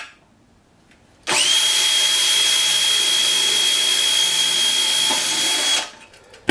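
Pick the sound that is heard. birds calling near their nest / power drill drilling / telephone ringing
power drill drilling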